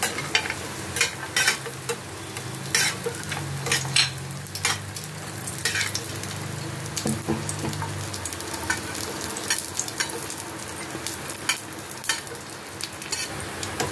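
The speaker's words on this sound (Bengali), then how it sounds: "তেলটা গরম হয়ে গেছে, এখন আমি বড়িগুলো দিয়ে দেবো। ভালো করে বড়িগুলো ভেজে নেব।" Bori lentil dumplings fry in hot oil, giving a steady crackling sizzle with scattered sharp pops and the occasional scrape of stirring, close and moderately loud throughout, with no voices.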